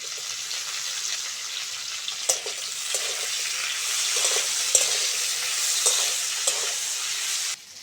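Tomato goes into lightly fried cauliflower in a pan, where a steady moderate sizzle is broken by several sharp stirring knocks and brief spatters. The sizzle cuts off abruptly at the end.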